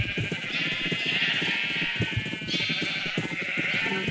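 Sheep on a large pixel-art sheep farm in a survival video game bleat again and again, several overlapping calls at close range, above a busy layer of game sounds. No speech.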